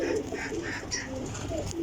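Pigeons coo in a low, steady murmur at close range, with several soft coos overlapping one another.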